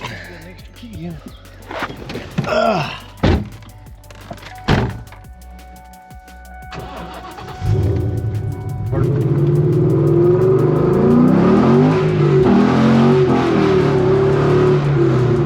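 Engine of a New Edge Mustang swapped to a Coyote V8 starts after door thunks and settles into a loud, throaty idle with rising revs, close by, after brief talk.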